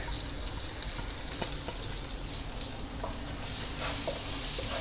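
Garlic sautéing in oil and stock in a pan for dragon chicken, with a steady close sizzle and occasional stirring scrapes throughout, no talk.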